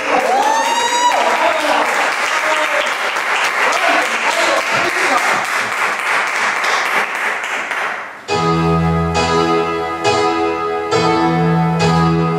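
Audience applause in a theatre venue during a live drag show, loud dense clapping and cheering that gives way partway through to music starting up.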